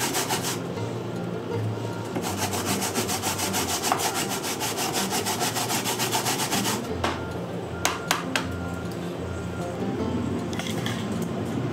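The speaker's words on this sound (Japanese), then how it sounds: "一口大に切っていくか" A knife cuts raw flounder into bite-sized pieces on a board, with dense, repeated scraping and slicing strokes close up, broken by a few sharp taps and clinks.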